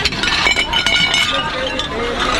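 A plate breaks during dumpster diving, giving a cluster of sharp clinks and cracking shards up close while people talk over it.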